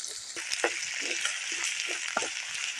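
Chopped tomatoes sautéing and frying in a pan, a steady close sizzle broken by repeated scrapes and stirs of a spoon, with no talking.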